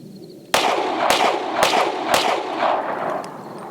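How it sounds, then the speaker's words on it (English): Four sharp, loud shots from a Springfield Armory Hellcat Pro pistol with an RDP slide firing 90 grain ammunition at an outdoor range, spaced about half a second apart, each with a ringing echo that fades after the last. "Next up, we got Jade trying the 90 grain with the RDP slide on top"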